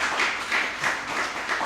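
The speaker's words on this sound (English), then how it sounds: "So I think you should give him a round of applause." Applause from an audience at an anti-bullying panel discussion, a steady wash of many hands clapping at close range for the full stretch with no talk over it.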